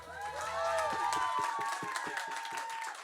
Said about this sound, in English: please give a warm round of applause to your afternoon guests